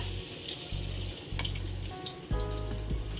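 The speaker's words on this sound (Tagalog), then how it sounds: "Ayan po tayo magpiprito" Battered eggplant fries in a pan with a steady, hissing sizzle. It rises and falls slightly and carries a few soft clicks and clatters of utensils near the end.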